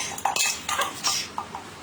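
A metal spoon scoops and clinks against a bowl or container while measuring ingredients for an orange cake, giving several sharp, close-up clinks and scrapes in an uneven rhythm.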